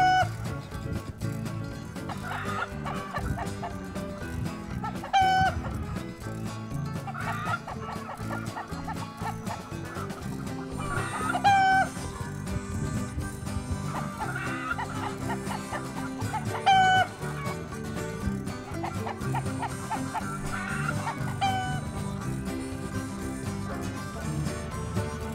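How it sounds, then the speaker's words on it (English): Farm chickens clucking and a rooster calling repeatedly over a busy, layered background that sounds like music, with calls recurring every few seconds. "you can definitely hear the rooster fulfilling his role in the flock and warning those chickens"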